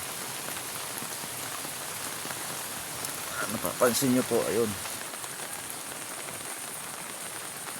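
Heavy rain pours steadily in Morong, Rizal, a dense, loud hiss running the whole time over rising floodwater, with someone speaking briefly partway through.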